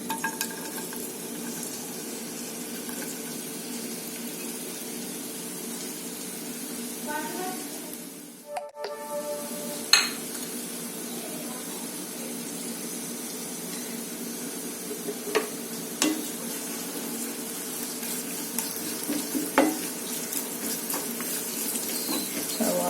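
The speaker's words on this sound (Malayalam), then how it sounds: "എണ്ണ ചൂടായി വന്നിട്ട് അതിലേക്ക് നമുക്ക് അരിഞ്ഞു വെച്ചിരിക്കുന്ന സവാള ആഡ് ചെയ്ത് കൊടുക്കാം." Continuous sizzling of sliced onions frying in hot oil, a steady crackling hiss with occasional clinks of a utensil against the pan.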